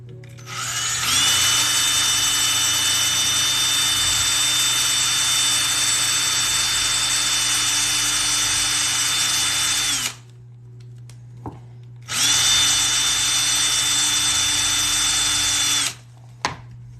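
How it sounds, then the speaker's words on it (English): A power drill whirs loudly for about nine seconds, stops, then drills again in a second steady burst, close by. "I don't play with power tools that much, but just enough to use the drill."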